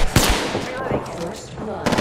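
Gunfire in the battle royale shooter Apex Legends: a couple of sharp shots at the start and a burst near the end, with a busy game mix in between.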